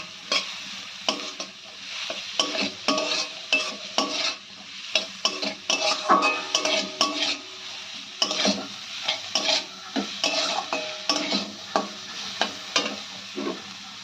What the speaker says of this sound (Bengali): এবার এটাকে একটু হালকা ফ্রাই করে নিতে হবে।